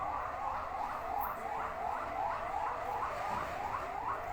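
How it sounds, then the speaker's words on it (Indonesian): An emergency vehicle siren wails at a fire near a petrol station on Jalan Patimura, its rising-and-falling sweep repeating steadily and sounding distant and faint. "Terdengar dari sini bunyi sirene."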